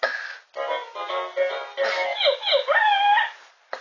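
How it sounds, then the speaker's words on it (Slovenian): A dog whimpers and yips in a series of close, high, wavering cries with short pauses between them, and no talk over it. "To je dejansko pes."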